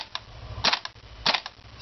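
Two sharp mechanical snaps about half a second apart from an airsoft G36 gas blowback rifle dry firing, each a crisp clack with a short metallic rattle, over a low background hum.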